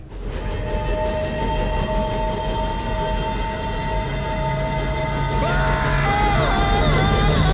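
A train rumbles steadily and loudly, with long sustained horn-like tones and screeching, whining metal sounds rising near the end.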